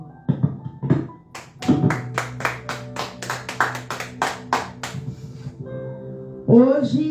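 A church congregation claps in a steady rhythmic beat over a sustained musical tone, the claps loud and evenly spaced before fading, and a voice comes in at the end.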